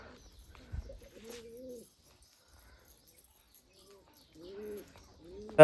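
Two soft pigeon coos, one early and one near the end, low and warbling in an otherwise quiet setting, with a faint thump between.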